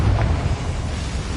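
Confringo fire curse striking in Hogwarts Legacy, a dense low rumbling burst that starts strong and rolls on as a steady heavy roar through the whole short stretch.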